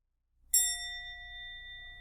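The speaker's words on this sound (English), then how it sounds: "so I hear the bell" A single meditation bell is struck once during a dharma talk, giving a clear bright ding whose steady tones ring on and slowly fade over a quiet background.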